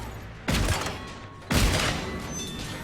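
Shotgun fire in the video game Mass Effect 3, two heavy booming blasts about a second apart, each with a long rumbling tail, loud and close with no talking.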